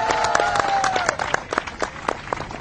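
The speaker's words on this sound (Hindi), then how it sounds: "जोरदार तालियां हो जाए।" Students in a university debate audience in Indore clap in a short, loud burst of applause, individual claps distinct and close, fading slightly toward the end.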